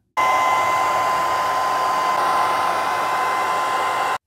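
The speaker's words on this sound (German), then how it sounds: "Am leichtesten geht es, wenn wir die Klebeschicht der Folie mit einem normalen Föhn etwas erwärmen" An ordinary hair dryer runs steadily to warm the adhesive of a tile sticker foil, giving a loud, close, constant whirring hiss for about four seconds before it cuts off.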